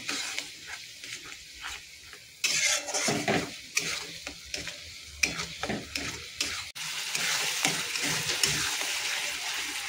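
A paste masala of ground mustard and cumin is stir-fried in a pan, with steady sizzling and frequent scraping strokes of a spoon against the metal, loudening partway through, with no talk.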